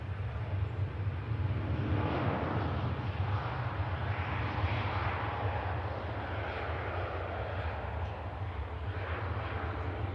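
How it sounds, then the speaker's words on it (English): An Airbus A350 airliner departing Manchester Airport for Singapore, a steady broad jet-engine roar with deep low rumble holding loud and even throughout, heard from a distance with no talk. "There goes to Singapore, Airbus A350."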